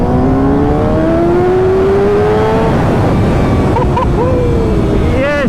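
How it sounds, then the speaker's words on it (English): A 2025 Kawasaki ZX6R 600cc sport bike revving hard on a ride past a river, its engine note climbing in a loud rising scream through the gears, then dropping and rising again amid heavy wind noise. "She does go when you let that engine scream."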